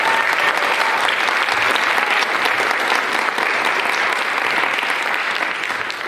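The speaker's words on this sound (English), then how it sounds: "If we could please give them a round of applause." Sustained applause from a high school concert audience honoring graduating seniors at a jazz lab and orchestra showcase, a dense, even wash of clapping that holds steady before easing slightly at the end.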